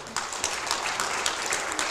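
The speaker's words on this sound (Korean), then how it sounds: "다시 한번 큰 박수 부탁드립니다" A big round of applause from the audience closing a question-and-answer session at a Gangnam community forum, brisk and even with individual claps popping through, no voices on top.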